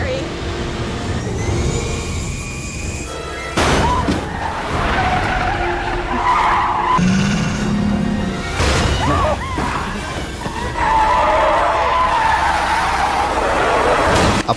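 A car skids off the road in a horror film scene, with loud tire screeches and whooshing passes layered over a dense, dramatic soundtrack.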